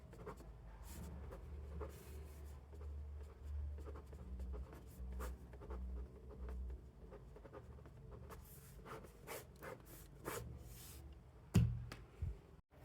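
Formula being written out by hand on paper: soft, faint scratchy pen strokes in short irregular bursts, with a few light knocks and a louder bump near the end over a low background hum.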